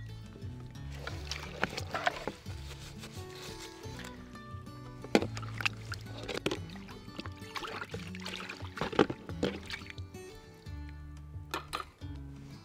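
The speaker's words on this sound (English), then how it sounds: "then it goes into our rinse bucket. And I just rinse it off." Camping dishes being rinsed in a rinse bucket, intermittent sloshing and splashing water with clinks and knocks of dishware, close and fairly quiet, broken by short pauses.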